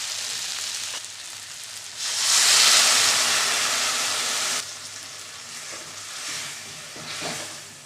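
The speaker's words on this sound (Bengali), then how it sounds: "এবার আমি জল দিয়ে দেবো।" Water hits a hot pan of Bengali flat-bean seed curry, setting off a loud burst of hissing sizzle that lasts a couple of seconds, then settles into a softer steady bubbling with faint stirring clinks.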